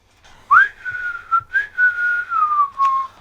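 Solo human whistling of a gliding, wavering melody for a music recording, a few sustained phrases with small breaks, close and clear with no talk over it.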